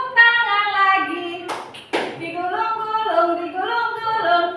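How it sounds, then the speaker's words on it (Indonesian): Two sharp hand claps in quick succession land in the middle of an adult's sung children's rhyme, with the singing voice carrying on before and after them. "Buka tutup, tepuk tangan lagi."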